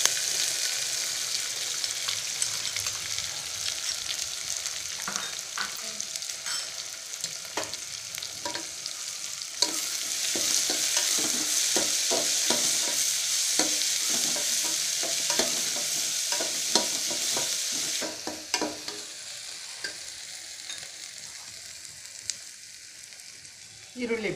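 Onion stir-fries in a pan with a constant close sizzle, punctuated by repeated scraping and tapping stir strokes that thin out toward the end.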